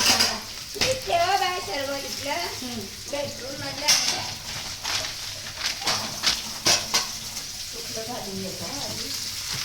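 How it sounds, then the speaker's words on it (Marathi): Mandeli fish coated in rice-flour rava frying in a pan, a steady sizzle running underneath while a voice talks over much of it, with a few sharper spits and crackles. "आणि आता तव्यात फ्राय करून घेणार आहोत."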